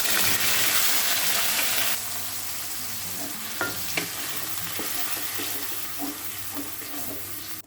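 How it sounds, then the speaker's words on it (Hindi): Onion paste fries in a pan with cumin and a bay leaf, sizzling loudly and steadily at first, then settling to a softer hiss with close scraping stirs at irregular intervals. "पाँच 6 मिनट तक हम प्याज को पकाएंगे, जब तक कि इसका कलर चेंज ना हो जाए।"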